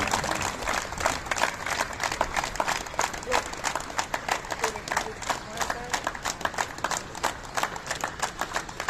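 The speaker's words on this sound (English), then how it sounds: "Big clap, please." Audience applause at an honoring ceremony, a dense, steady wash of many hands clapping that continues throughout, with a voice calling out over it.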